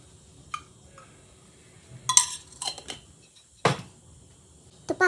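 A frying pan being set down on the stove for a ghee tempering: scattered metallic clanks and clinks of cookware, a few sharp knocks spaced irregularly over a quiet background.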